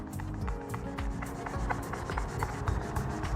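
Squeaky rubbing from repeatedly wiping clean the taped-off areas of a Ford Bronco hardtop, a steady run of short, close squeaks and scrubbing strokes with no talking.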